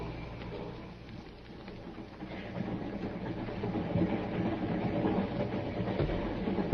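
Steady rumble of a passenger train under way, a few minutes out of Glendale, a low rolling rail drone that swells slightly louder toward the end, with no talk over it.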